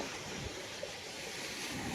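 Ocean waves at a beach during an evening walk make a steady, broad rush of surf, mixed with wind buffeting the microphone and no voices.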